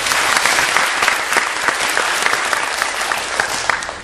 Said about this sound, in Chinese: 请大家以热烈的掌声来欢迎